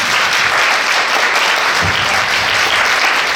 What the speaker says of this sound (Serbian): Hoćemo jedan aplauz za Dragana.